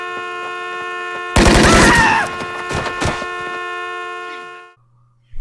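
Gunfire from a Sons of Anarchy TV episode, heard as a short burst of loud, rapid shots over a steady background score, then the mix fades out.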